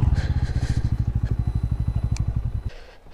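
A motorcycle on an adventure trip engine-thumps in a fast, even idle close by as it is parked at a hotel, then cuts off abruptly near the end, leaving quiet background.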